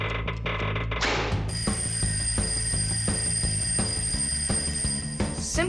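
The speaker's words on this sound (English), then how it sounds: "I think I can hear my alarm ringing." A cartoon alarm clock rings in a sustained bright metallic trill that runs continuously at steady loudness, with rhythmic clanking thuds beneath it and no talking.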